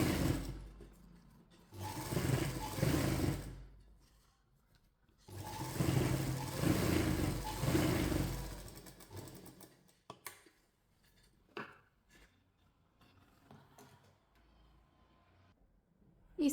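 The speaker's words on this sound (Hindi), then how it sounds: "इसी तरीके से हम सिलते हुए इसके ऊपर से एक सिलाई कर लेंगे" Sewing machine stitching a katori blouse, running in two sustained bursts of steady mechanical whirring, then stopping, followed by a few small clicks and handling sounds.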